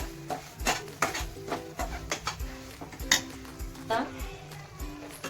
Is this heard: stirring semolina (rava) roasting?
yes